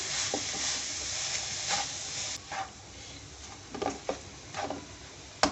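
Chopped onions fry in a pan with a soft, steady sizzle while a spoon stirs them, making a few faint scraping strokes at irregular intervals.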